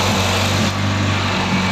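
A Renault Clio 2 RS engine runs steadily, warm after short accelerations on a cold day. It gives a close, continuous even drone with a constant low hum and no change in revs. No one talks.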